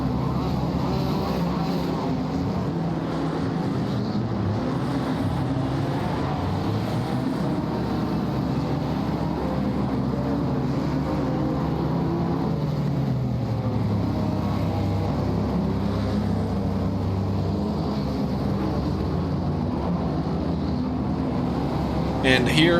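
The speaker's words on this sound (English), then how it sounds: "Engine starting, formation lap underway." Race car engines on a formation lap at the Nürburgring GP circuit in a racing video game, a continuous droning engine hum with slow pitch swells under a commentator's voice.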